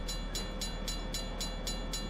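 A locomotive rolls past a railway crossing, its wheels striking the rail joints in a steady run of about eight evenly spaced clacks over a constant low rumble.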